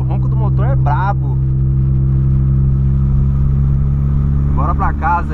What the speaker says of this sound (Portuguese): o ronco do motor é brabo